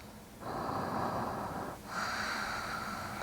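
Slow, deep breaths during a yoga session, one long airy inhale or exhale followed by a second, close and fairly quiet with a nasal edge and no talking.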